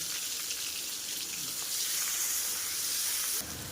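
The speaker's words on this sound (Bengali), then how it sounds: "তেলটা গরম হয়ে গেলে নুন হলুদ মাখানো চিংড়ি মাছগুলোকে হালকা করে ভাজা করে নেব" A soft, steady sizzle and hiss of salted, turmeric-coated shrimp frying in mustard oil, fairly quiet and continuous, ending with a slight change near the end.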